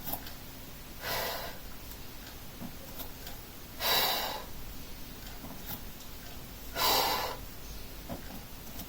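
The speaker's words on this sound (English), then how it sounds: "Continue to exhale" Three soft, airy exhales during a Pilates exercise, spaced about three seconds apart, faint and close against a quiet room.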